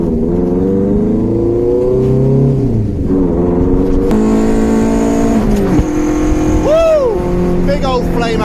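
A car engine revs hard through a homemade 760mm fabricated exhaust silencer in a pub car park, producing loud, steady droning with pitch rising and falling in several surges.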